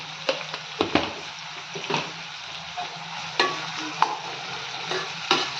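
Onions frying in a pan with a little salt until golden for chicken biryani, a soft sizzle broken by irregular spatula knocks and scrapes, close and quiet, without speech.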